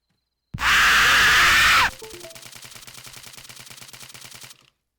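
Video game gunfire erupts as a loud, dense burst of automatic fire for over a second, then gives way to a quieter rapid train of clicks and rattles that stops abruptly.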